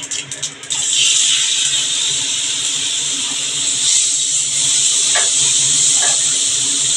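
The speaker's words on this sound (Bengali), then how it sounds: "আমি একটু আমগুলো ভেজে নেব।" Mango pieces frying in mustard oil tempered with black mustard seeds and dried red chilli, for a Bengali mango-and-catla fish dish: a steady, loud hissing sizzle that swells up after a brief opening and holds without speech.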